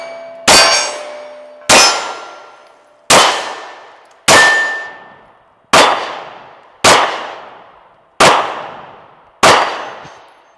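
Eight gunshots strike a Shooting Targets USA harmonic steel target outdoors, each sharp crack followed by a bright ringing clang that decays before the next, spaced roughly a second apart.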